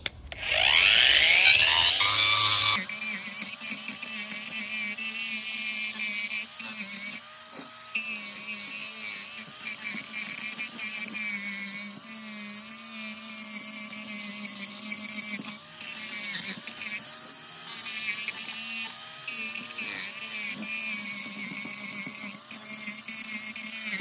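HYCHIKA 20V cordless angle grinder spinning up with a rising whine, then a sustained high-pitched grinding scream with shifting pitch as it bites into the workpiece, loud and continuous for the whole stretch.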